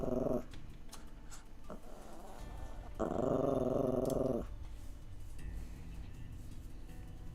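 A dog named Blue growls low and continuously nearby, swelling louder for a stretch, under faint background noise.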